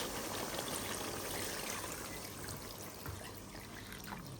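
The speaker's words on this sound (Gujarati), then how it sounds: "હવે આપણે નાખી દઈશું આમાં પાણી" Water pours steadily in a continuous splashing stream into a cooking pot for fish curry, fairly close, with no speech over it.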